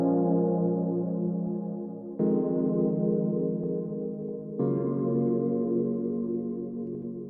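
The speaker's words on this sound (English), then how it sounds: "And then for the pad, it's actually a stock preset inside of Flex, which is native to FL Studio" A warm synth pad from a stock Flex preset in FL Studio plays a chord progression, three sustained chords each swelling in and slowly fading, clean and alone with no other instruments or voices.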